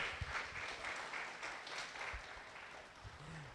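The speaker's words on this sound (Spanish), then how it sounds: "Y vamos a darle un fuerte aplauso al Señor Jesús." A church congregation gives the Lord a round of applause during a Spanish-language service, a faint, distant, continuous patter of many hands clapping with no voices over it.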